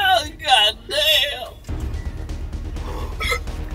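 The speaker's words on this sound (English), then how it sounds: "The hiccups already started" Someone hiccups several times after eating the spicy One Chip Challenge chip, sharp vocal catches in close succession, followed by heavy breathing and low handling noise.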